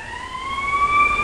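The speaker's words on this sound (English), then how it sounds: "Don't mind the siren, my ratchet ass neighborhood." A siren wails through a rough residential neighborhood, steady rising tones held across the clip over low background rumble and growing slightly louder, with no one talking.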